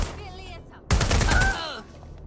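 Gunfire in the Watch Dogs Legion video game: a single loud, rapid burst of shots lasting about half a second, framed by quieter game ambience and brief talk.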